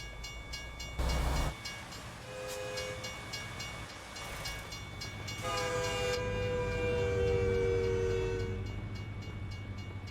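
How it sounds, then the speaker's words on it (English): Train passing in a truck simulator video game while hauling live cattle, with a sustained rumble of rail cars and long blasts of the train horn over steady truck engine drone. "Oh, here's the train."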